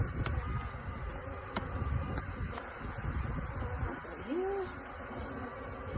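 Honey bees hum and buzz steadily at an open hive during a February hive inspection, a dense, continuous drone close by with a few individual bees flying past.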